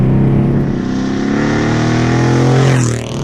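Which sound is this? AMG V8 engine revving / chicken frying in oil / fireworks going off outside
AMG V8 engine revving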